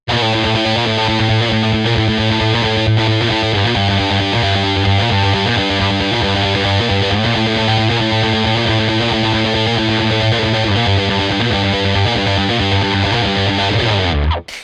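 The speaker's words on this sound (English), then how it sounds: "It's just the overdrive distortion and it sounds like this." A heavily overdriven electric guitar plays a chugging, repeating riff, loud and continuous, ending abruptly.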